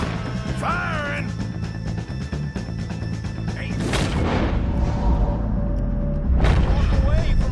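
Gunfire in Red Dead Redemption 2 comes as a few heavy booming shots. They punch through game music and voices, and the loudest reports land near the middle and end of the clip.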